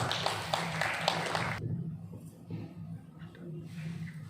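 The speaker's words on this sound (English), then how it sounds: "Let us all welcome Ms. Pratyusha Mohanty onto the stage with a huge round of applause" A huge round of applause welcomes Ms. Pratyusha Mohanty onto the stage at a DAV Nimapara Republic Day 2021 school event, a dense burst of many hands that breaks off abruptly after about a second and a half, followed by quieter room noise.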